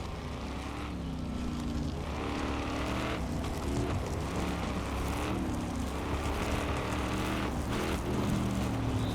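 A used car in Used Cars Simulator revs with a throaty engine note, a steady, loud drone rising and falling in pitch with each push of the throttle, alone with no talk.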